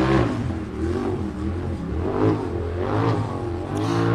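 A UTV race vehicle's engine revs hard at an off-road park during a racing event, a loud, continuous growling roar that rises and falls in pitch as the throttle changes.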